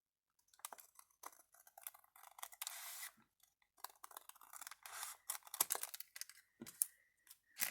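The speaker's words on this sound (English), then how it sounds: "this part was too wide for the book that I'm putting it in, so I'm going to trim some of it off" Paper being trimmed for a book, close and quiet snips and crisp rustling cuts in irregular short bursts separated by brief silences.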